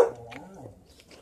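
A newborn puppy and its mother dog give faint, soft whimpers, brief and close, with no talk.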